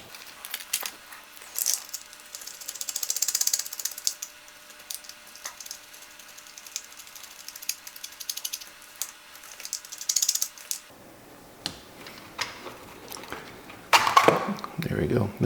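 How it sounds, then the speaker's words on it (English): A small screwdriver backs out two tiny screws holding a receiver box on a vintage Tamiya Ford Ranger XLT RC truck chassis. Soft intermittent clicks and ratcheting scrapes sound close by, with a louder cluster of handling noise near the end. "there's two little tiny screws holding this box on. So I'll get the right screwdriver and we'll take this out."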